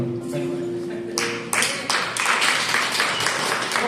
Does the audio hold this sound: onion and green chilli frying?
no